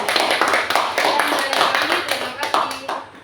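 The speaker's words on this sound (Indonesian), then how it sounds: "Oke, tepuk tangan." A classroom group applauding together, a dense burst of many hands clapping that keeps going steadily and then tails off near the end.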